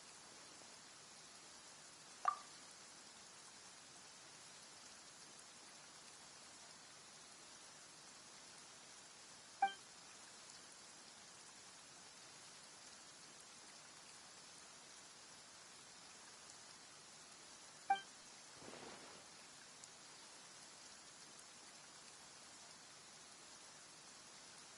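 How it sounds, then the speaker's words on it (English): Soft, steady rain in Genshin Impact hisses quietly throughout, with three faint isolated clicks spaced several seconds apart. "Why is it raining all of a sudden?"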